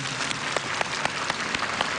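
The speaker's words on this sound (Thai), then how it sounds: "Let us all give another warm round of applause to our distinguished guests" Applause from an audience at a Buddhist award ceremony honouring a world Buddhist leader, a steady dense wash of many hands clapping throughout, with a few sharper individual claps standing out.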